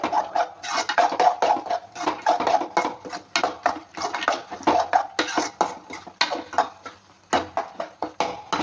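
Masala is stirred in a cooking pot, giving repeated scraping and clinking strokes in an uneven rhythm, close and moderately loud.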